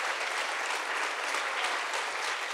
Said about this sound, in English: I'm not gonna let you keep clapping like David Letterman does.